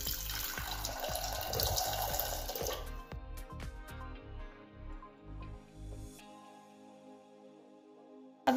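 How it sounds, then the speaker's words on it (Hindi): Water runs into a pressure cooker holding amla, a close, steady pour for about three seconds, then a string of drips and small clinks trailing off into near quiet before a sudden knock at the end. "थोड़ा सा इसमें पानी डालेंगे।"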